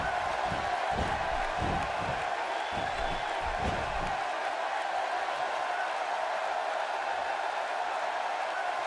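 An arena crowd roars steadily in WWE 2K16, a dense sustained cheer with heavy thumping early on that drops away after a few seconds while the roar continues.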